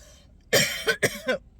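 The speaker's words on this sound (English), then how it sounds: "And I'm coughing now." Several harsh coughs from sinus drainage in the throat, in quick succession, close and loud, after a moment of quiet, with a throaty rasp on the last ones.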